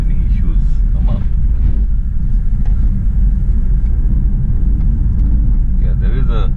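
A BMW F30 320i with a B48 engine and aftermarket FTP charge pipes drives along at low speed, a loud steady rumble of engine and road noise heard from inside the cabin.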